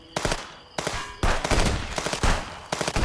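Rapid gunfire in the video game Contraband Police: loud, close bursts of shots in several volleys separated by brief gaps, each burst a dense run of sharp cracks with no talk over it.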